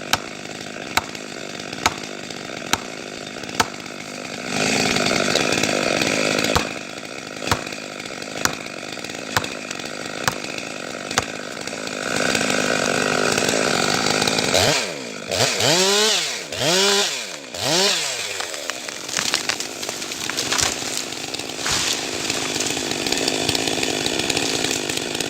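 A chainsaw cuts through a large tree, its engine buzzing loud and continuous with surging revs and a few rising whines as the blade bites, plus faint regular ticks.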